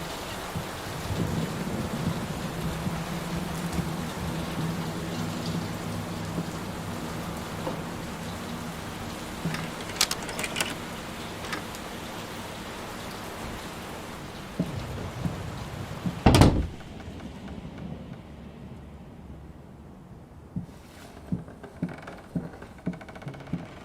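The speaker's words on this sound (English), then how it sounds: "Will this storm ever run out of rain?" A rainstorm pours in the video game Layers of Fear, a steady wash of heavy rain with a loud, close thunder crack partway through, then quieter dripping and scattered knocks.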